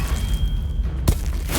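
A Confringo spell blast in Hogwarts Legacy lands as a single deep boom about a second in, over a dense, rumbling game soundscape.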